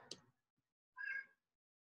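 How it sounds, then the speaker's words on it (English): A cat lets out two short meows a moment apart, faint and in the background, with nothing else around them. "my cat needs some snacks right now, so she's hollering in the background"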